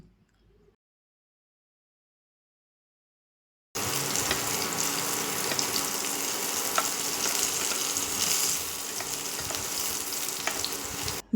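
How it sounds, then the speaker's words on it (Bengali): After a few seconds of silence, a steady loud sizzle of food frying in hot oil, with occasional pops and crackles. "মাঝারি আঁচে এপাশ ওপাশ উল্টে সুন্দর লালচে রং হওয়া পর্যন্ত ভেজে নিচ্ছি"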